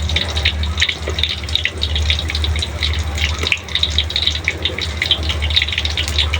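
Tap water running steadily into a container to soak tempeh in a home kitchen, a continuous gushing splash at moderate loudness, with no talking.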